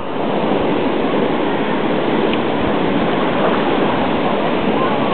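Water rushes steadily and loudly through the Paniewo double canal lock on the Czarna Hańcza river, a dense continuous roar with no break.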